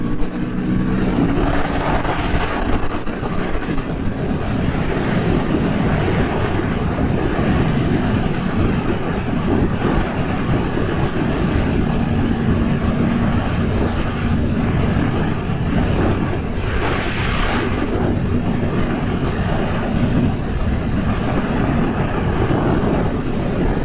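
A 2023 Suzuki GSX-8S rolls on in fourth gear, a continuous close engine drone mixed with heavy wind rush over the rider's microphone, steady in loudness throughout.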